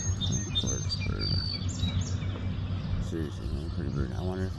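A woodpecker gives short chirping calls over a person talking close by, outdoors, with the bird notes clear but mixed under the voice.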